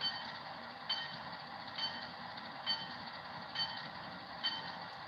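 An S gauge model locomotive's B unit sounds its horn as a steady tone, with the bell striking in an even, regular rhythm underneath. It plays close and moderately loud with no talking.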